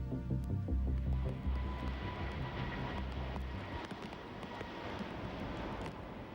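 A jet airliner on approach to runway 13 at Hong Kong's Kai Tak airport rumbles in a deep, broad roar that starts loud and gradually fades as it passes.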